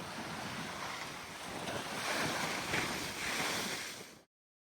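Choppy sea waves surge against the Cemaes coastline in Wales, a steady broadband wash with gusting wind buffeting the microphone, swelling louder in the middle before cutting off abruptly.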